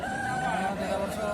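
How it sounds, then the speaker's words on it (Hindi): A black Aseel fighter rooster, about a year and a half old, crows in a sustained, strained call at an Odisha poultry market, set against steady crowd and market noise. "ये फाइटर मुर्गा है।"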